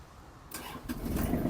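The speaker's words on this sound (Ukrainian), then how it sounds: "Заводиться трактор легко, добре." A Kubota GL-261 tractor engine cranks briefly, then catches and starts running, rising in loudness over a second or so.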